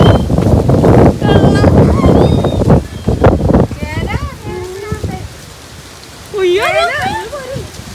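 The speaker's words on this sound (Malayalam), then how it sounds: "അപ്പൊ മഴ പെയ്തു." Rain falls heavily at first with dense, loud noise, then eases off. Birds chirp and whistle over the quieter later part.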